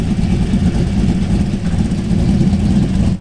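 A modified LS2 V8 car engine with a 243-head setup, long tube headers and a new throttle body, making about 422 wheel horsepower, idles loud and close with a deep, lopey rumble that runs steadily for about three seconds before cutting off.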